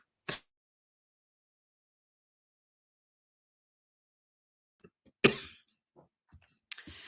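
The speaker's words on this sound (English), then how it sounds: "When the cough comes, it comes." A few sharp, isolated coughs separated by long stretches of near silence, the loudest one near the end followed by smaller throaty bursts.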